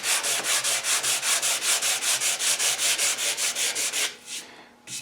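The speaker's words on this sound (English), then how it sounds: "Right now I'm only sanding the broad areas." A maple sanding block rubbed back and forth over the wood of a Winchester Model 88 rifle stock, in steady, even, rhythmic strokes, close and loud, slowing and stopping near the end.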